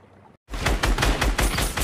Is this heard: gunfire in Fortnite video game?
yes